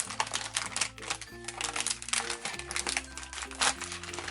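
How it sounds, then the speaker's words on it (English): Crinkling and rustling of plastic packaging being unwrapped, a continuous busy crackle close by, with a steady tonal drone of background music underneath. "let's get started by unwrapping, getting these out, set them free"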